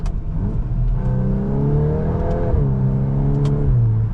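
A 2025 Volkswagen Golf R with a dual-clutch transmission accelerating, its engine note rising and dropping through quick, snappy gear changes, heard from inside the car at a steady, fairly loud level.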